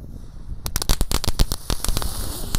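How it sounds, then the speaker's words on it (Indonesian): A three-colour spinning ground firework, two packs lit together, crackles and pops in a rapid irregular burst of sharp bangs over a low background hiss. "Lanjut kita nyalakan gangsing super 3 warna, ini 2 pak sekaligus"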